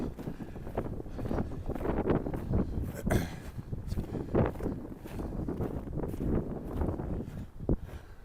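After a blizzard in Regina, wind buffets an outdoor microphone in a steady, rumbling roar with gusty swells that last the whole stretch. Loud and close, with no clear speech.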